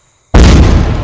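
A rocket firework exploding in a fireworks simulator video game: one sudden, very loud, close boom after a brief silence, with a crackling tail.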